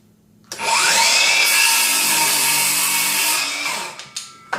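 A Ridgid 18V GEN5X brushless 7-1/4" cordless circular saw rips through a 2x4, a loud steady whine lasting about three seconds that winds down into coasting and a few light knocks afterward.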